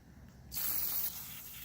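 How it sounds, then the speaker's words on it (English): A can of penetrating oil sprays in one steady hiss lasting about half a second at close range, then tapers into quieter fizzing. The oil is aimed at a seized 1978 KM100 motorcycle engine. "With penetrating oil. Let's just spray it down."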